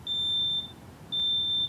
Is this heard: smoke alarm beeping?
yes